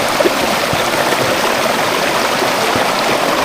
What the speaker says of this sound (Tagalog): Tapos sa kanya dito yung naagos yung tubig.